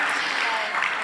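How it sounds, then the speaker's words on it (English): Brief burst of audience applause at a roller derby double header, a steady dense patter of clapping filling the whole moment at moderate loudness. "that deserves a round of applause"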